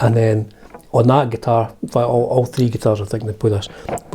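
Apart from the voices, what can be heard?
No everyday noise stands out behind the speech.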